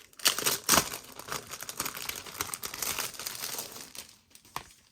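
Crinkly plastic packaging crumpled and torn open around a notebook-style planner, a dense run of close, sharp crackles and rustles that thins out toward the end.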